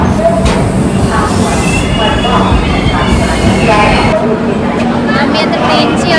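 The Netravati Express pulls into a station platform, wheels squealing loudly on the rails with rumbling carriages and clatter, while people talk nearby throughout.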